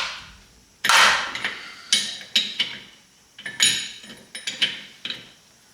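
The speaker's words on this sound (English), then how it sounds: "No, I do not think you need a flaring wrench to do these nuts" A flare nut wrench works the brake line nuts on a 1978 International Scout, giving sharp metallic clanks and taps in irregular bursts, close and alone with short pauses between.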